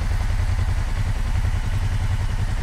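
Kawasaki Teryx side-by-side engine running steadily at idle, a close, even low throbbing beat with a faint mechanical clatter, heard alone near the exhaust.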